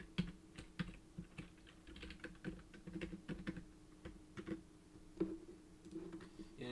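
Steady clicking of keys on a sticky computer keyboard, close but faint, with uneven taps and short pauses over a low background hum.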